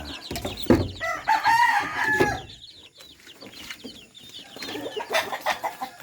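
Chickens cluck and a rooster crows nearby in a mixed backyard flock. Clucks come in bursts, with a long crowing call early on and more chatter after a short lull.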